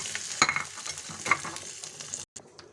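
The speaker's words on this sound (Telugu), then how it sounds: "కరివేపాకు, కొద్దిగా ఇంగువ పౌడర్ అండి. కావాల్సిన ఇందులో వేసుకోవాలి." Curry leaves, dried red chillies and a pinch of asafoetida powder frying in hot oil for a radish chutney, giving a close, steady sizzle with a few sharp crackles and pops, alone without any talk.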